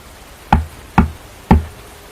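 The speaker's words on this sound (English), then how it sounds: "a knock could be heard at my door." Three slow, evenly spaced knocks on a door in a dark, silent house, each a sharp hollow thud with a short ring, sounding close and alone.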